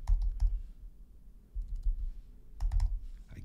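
Fingers type on a computer keyboard while filling in a web contact form, with bursts of soft close clicks separated by a quieter pause and no talking.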